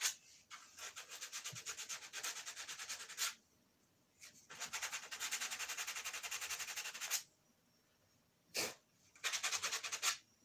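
Rough edge on a 47-year-old item being sanded by hand in a workshop, steady rasping strokes in several long bursts separated by pauses, close and fairly loud with no talk.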